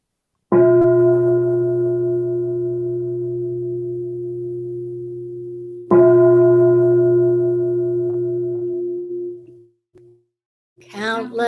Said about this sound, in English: let's invite 2 sounds of the bell